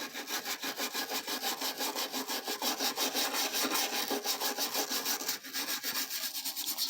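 Scrubbing the wooden body of a Hondo 2 classical guitar, a fast, even back-and-forth rasping rub repeated steadily and heard up close with no voices.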